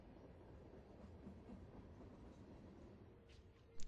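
A train in the video game DROD: The Second Sky rumbles steadily and alone, a continuous low rolling rail noise that stays even throughout, with a faint brighter squeal at the very end.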